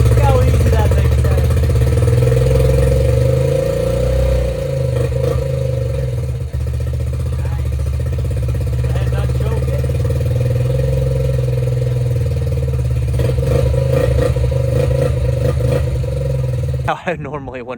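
Yamaha Raptor ATV engine running steadily at idle, a close continuous droning buzz with slight rises in revs, heard alone for most of the stretch.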